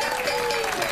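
Applause and cheering from an audience supporting a team at a televised high school quiz show, a steady dense wash of clapping lasting about a second with crowd voices mixed in.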